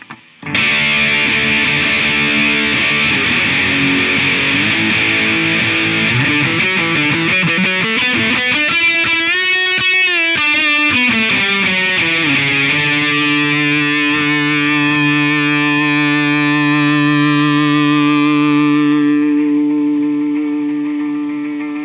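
Electric guitar played through an MXR Custom Badass '78 Distortion pedal, with some hum in the signal: a loud, saturated, sustained tone that bends and wavers midway, then settles into steady held chords that fade out near the end.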